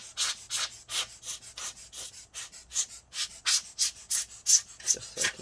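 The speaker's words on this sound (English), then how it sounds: "I got this air blowing thing that I use. It's like a squeeze air blower." Squeeze air blower pumping short puffs of air to blow dust out of the fans of an MSI GS73VR Stealth Pro laptop, a steady rapid series of breathy hissing bursts, close and fairly soft.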